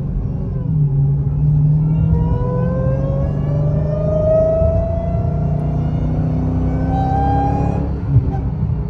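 Dodge Challenger SRT Redeye Jailbreak V8 with a cold air intake revving and pulling through the gears, a loud deep rumble with rising engine pitch sweeps, heard close from inside the car.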